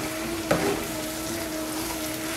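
Tomato mixture cooking on low heat in a pan for crab noodle soup, a steady soft sizzle with one brief scrape of stirring, close and fairly quiet with no voices.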